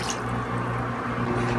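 Chicken broth pours into a lasagna sauce in a pot, a steady liquid trickle and splash running without a break for the whole short stretch.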